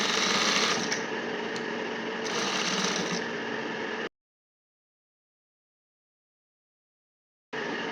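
A sewing machine runs in a fast, steady whir while stitching a trouser seam, stopping abruptly after about four seconds, leaving silence before it briefly starts again near the end.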